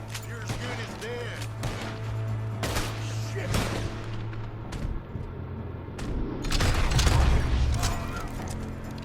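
Gunfire in Red Dead Redemption, including a double-barrel coach gun: repeated sharp shots and booming blasts ring out at irregular intervals over a low steady hum, with a denser burst of shooting toward the end.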